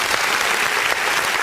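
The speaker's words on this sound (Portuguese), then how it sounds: "Vamos aplaudir o nome do Senhor Jesus" Church congregation applauding together, a loud dense wash of clapping from many hands filling the room without pause.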